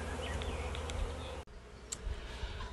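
Honey bees buzzing at a busy beehive in July: a steady, dense drone of many wings close by, with individual bees whining past over the constant hum and no speech.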